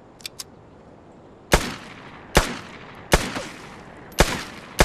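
Pistol gunfire in the video game Vigor, five loud, sharp shots spaced about a second apart, preceded by two faint clicks.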